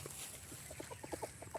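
Domestic chickens give a few quick, soft clucks over a quiet, steady background, brief and fairly faint, with no speech.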